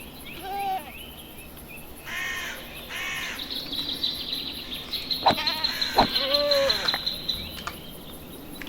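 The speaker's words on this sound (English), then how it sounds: "There's a goat over there" A Minecraft goat bleats in a snowy modded world, a few short nasal calls spaced apart with bird-like squawks, set against a steady ambient hiss and faint chirping.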